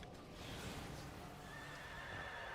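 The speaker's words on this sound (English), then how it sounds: "I got this horse doing the Diablo event" A World of Warcraft horse mount, won in the Diablo event, neighs and whinnies loudly with clip-clop hoofbeats, set against steady game ambience and no talk.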